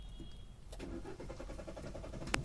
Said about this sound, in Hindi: तो अभी गाड़ी चालू करके देखेंगे पहला